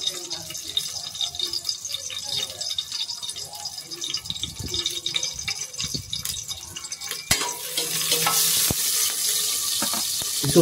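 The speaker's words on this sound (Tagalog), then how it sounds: "Igigisa na natin ang bawang." Garlic sautéing in hot oil in a pressure cooker for Iloilo-style dinuguan, a steady close sizzle with occasional stirring clinks that grows louder and brighter near the end.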